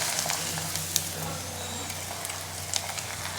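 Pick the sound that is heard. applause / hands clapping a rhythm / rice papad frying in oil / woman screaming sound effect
rice papad frying in oil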